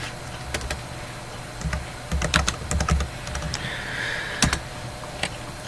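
Keys clatter on a computer keyboard as a report name is typed, with a short run of close, crisp taps and a few isolated clicks under a steady low hum.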